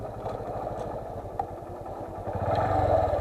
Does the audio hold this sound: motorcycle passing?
yes